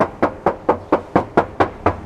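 Knuckles rap on the body panel of a 2019 Toyota Vios 1.5 High, eight crisp, evenly spaced knocks close up in a quick steady rhythm with no talk.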